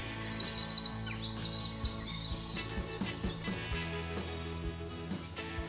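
Birds chirp and sing around a lake, with high twittering calls that are strongest at the start and then thin out, fairly faint over a low background.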